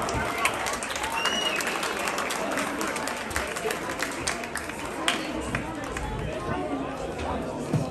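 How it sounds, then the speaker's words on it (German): An outdoor audience at a football cup ceremony claps steadily and moderately, with crowd chatter and movement mixed in beneath the continuous applause. "Herzlichen Applaus!"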